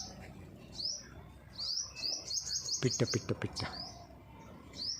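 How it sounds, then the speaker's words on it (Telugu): Small birds chirping nearby in short, repeated high tweets, with a quick burst of rapid notes in the middle, over a soft background hum. "అదిగో పిట్ట చూడు"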